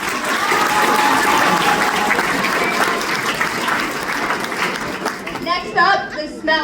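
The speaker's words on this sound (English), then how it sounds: "One more round of applause for our senior guys." At a high school pep rally and bonfire, a large crowd applauds the senior guys with dense, loud, sustained clapping that tapers off near the end into a few cheers and scattered voices.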